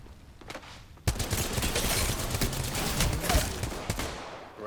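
Video game gunfire starts abruptly after a quiet second and then runs as a loud, sustained automatic barrage of rapid shots, close and dense, fading slightly near the end, with no speech.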